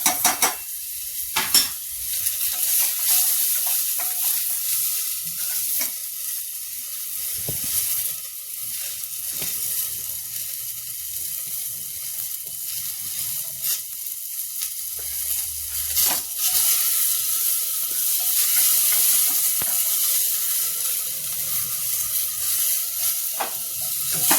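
Potatoes and radish sizzle steadily in a pan while a utensil stirs them, with scattered scrapes and knocks against the metal throughout, close and fairly loud and without any talk.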